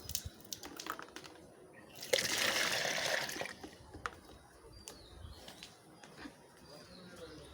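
Water pours into a container for young chicks, a brief burst of splashing and trickling lasting about a second and a half, with faint drips and small outdoor sounds before and after.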